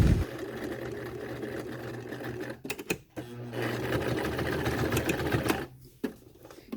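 A sewing machine runs in steady bursts while stitching a fabric face mask seam, briefly stopping and restarting as it backstitches, with a close, even motor whir.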